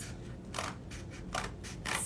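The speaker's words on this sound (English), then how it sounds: "So use those scissors." Scissors cutting paper during a children's handprint flower craft, three or four crisp snips at a steady rhythm, close and fairly quiet, with no speech.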